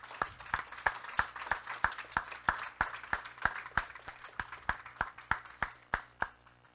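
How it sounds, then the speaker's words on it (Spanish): A church congregation clapping together in a steady, evenly spaced rhythm, about three claps a second, sharp and fairly close, with no talking over it. "Dale un aplauso al Señor."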